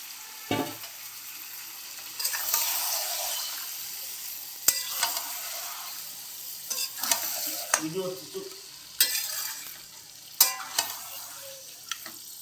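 Marinated mutton sizzles and fries in a pan, with sharp clattering stirs and scraping at irregular intervals over a continuous close hiss.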